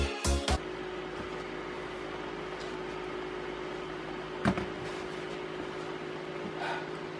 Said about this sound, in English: I apologize about the fan noise if you can hear that